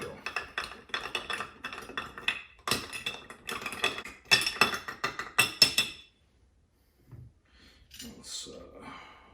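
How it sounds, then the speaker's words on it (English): A spoon stirs an old-fashioned cocktail, rapid close clinks and rattles of ice against glass for several seconds, then a pause with a couple of faint clinks as a person talks. "And then we're going to stir that up, and then we'll also garnish this"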